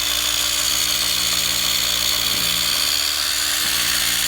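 A Rupes iBrid Nano polisher works on a 2018 Ford Raptor, giving a steady, close, unbroken whir with a faint high whine that holds level throughout.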